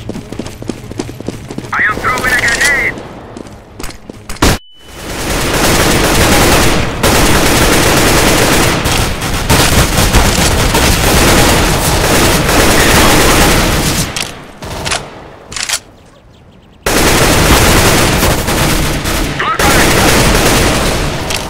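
Gunfire and a grenade in the video game CS:GO, with sustained loud bursts of automatic fire and explosive booms, broken by brief pauses.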